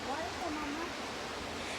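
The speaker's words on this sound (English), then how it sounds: "there's a waterfall" A waterfall pours as a steady broadband rush of falling water along a nature trail, continuous and fairly distant, with faint voices underneath.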